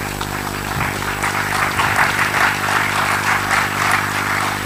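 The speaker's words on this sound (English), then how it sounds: "I will invite you to give a warm round of applause as the authors come up to the stage" Audience at a literature festival session applauding as the authors come up to the stage, a steady wash of clapping over a low hum, with a few footsteps or thuds underneath.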